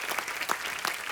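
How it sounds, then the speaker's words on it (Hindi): Studio audience applause on a comedy show, a brief burst of steady clapping from many hands at a fair distance, with no voices over it. "एक बार जोरदार तालियां हो जाए हमारे"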